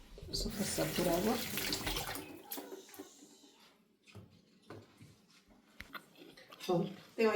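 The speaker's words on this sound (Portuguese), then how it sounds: "Só passar por água." Tap water runs briefly as food is rinsed in a kitchen sink during cooking, a splashing rush at the start that stops, followed by light clinks and a person talking.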